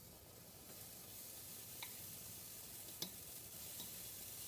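Pancake batter sizzles faintly on a warm griddle, a soft steady frying hiss with a few small ticks and no talking.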